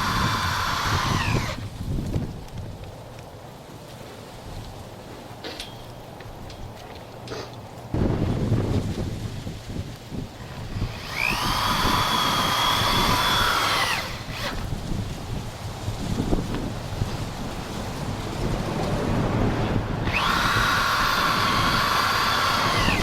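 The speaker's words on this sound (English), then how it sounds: "Now we've got to fasten these poles in with Tek screws on the inside" Power driver sinking Tek screws into greenhouse frame poles, several whining bursts of a few seconds each with quieter gaps, heard outdoors against wind noise on the microphone.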